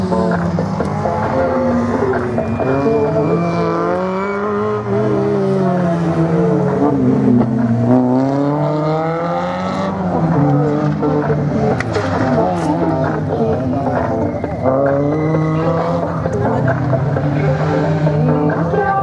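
A rally car on a slalom course accelerates and brakes through chicanes, its engine revving up and down in repeated sweeps at moderate distance, continuous throughout.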